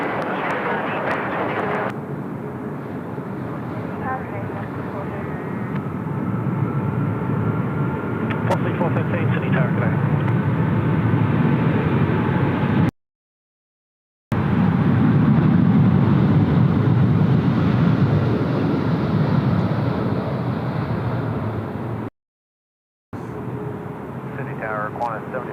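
United Airlines airliner at Sydney Airport, a loud continuous jet engine roar rising and swelling as it passes, steady broadband rumble with brief dropouts, heard from an outdoor plane-spotting spot.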